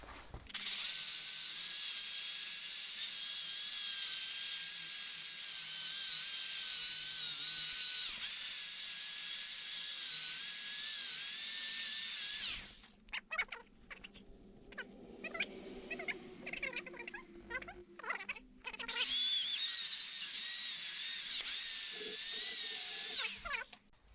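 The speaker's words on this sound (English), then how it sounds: "So let's get the drill out and buzz that off." A high-pitched power drill whines steadily while cutting off a metal bolt during a Peugeot brake upgrade, stops, gives way to clanking handling noises, then screams back up again.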